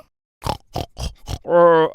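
A voice imitates a pig with four short grunting oinks, then a longer drawn-out squealing oink, close and clear.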